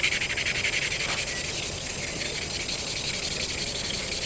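A forged hamon blade is sanded by hand with 500 grit paper, a steady raspy rubbing in quick repeated strokes, close and fairly loud, with no talking.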